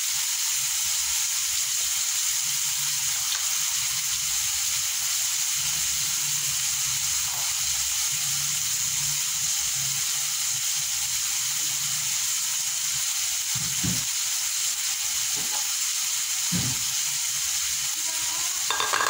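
Chopped tomatoes sautéing in a pan, with a steady hiss of frying running throughout and a few utensil clinks near the end.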